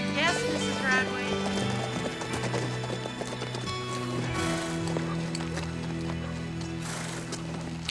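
Horses' hooves clip-clop steadily at close range in a western frontier town drama, with a horse whinnying and people talking over the rhythmic hoofbeats.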